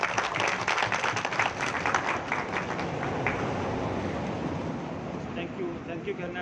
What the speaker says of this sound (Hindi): तो मैं डायरेक्ट धन्यवाद दूंगा जोरदार तालियों के साथ में नायक साहब